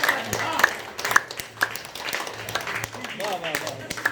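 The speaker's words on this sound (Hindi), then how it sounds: "आप लोग एक बार तेज ताली बजाइए, जोर से बजाइए" A crowd claps in scattered bursts beneath a man's loud, excited speech, the applause rising and falling over a few seconds.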